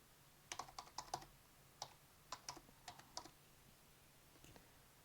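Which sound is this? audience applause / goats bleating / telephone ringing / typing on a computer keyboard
typing on a computer keyboard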